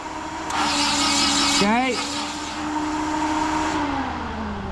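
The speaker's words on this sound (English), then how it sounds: "Hold it on crank." A turbo K-swapped Acura Integra engine cranking on the starter: a steady, sustained whirring churn close by with a brief rising whine partway through, while a voice speaks briefly over it.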